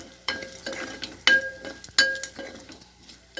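Prawns are stirred with salt and chili in a frying pan, with a spoon scraping and clinking against the metal in irregular knocks over a soft sizzle.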